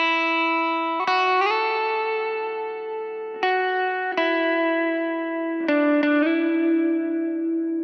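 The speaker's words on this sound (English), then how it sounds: "And then the lead guitar comes in" Sustained electric lead guitar melody on the neck pickup with the tone dial rolled back to soften the brightness, the opening of a song, played alone as a few long, ringing notes with slides, evenly loud with a touch of effects.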